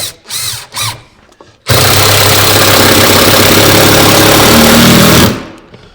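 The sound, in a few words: power drill driving 2.5-inch screws into cabinet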